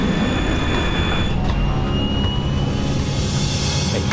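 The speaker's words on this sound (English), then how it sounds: "The plane lifts off the runway." An airplane lifts off the runway during an air disaster documentary reenactment, a loud, steady roar of engines at full takeoff power that holds throughout.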